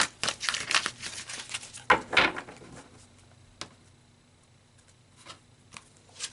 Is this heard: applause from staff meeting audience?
no